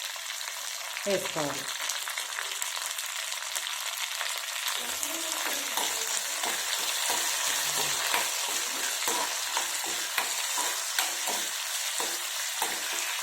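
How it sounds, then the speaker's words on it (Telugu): Tempering of mustard seeds, cumin and dried red chillies frying in hot oil for a potato curry, a steady bright sizzle with popping crackles throughout and a voice speaking briefly near the start. "ఇంకా ఈ పోపు వేసేసుకుందాము"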